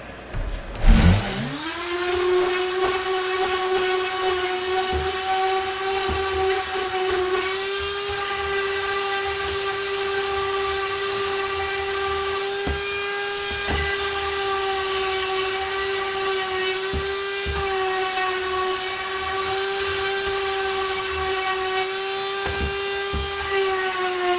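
A power sander on pallet wood spins up with a sharp start and then holds a steady, high whining hum, running continuously at close range with no talking.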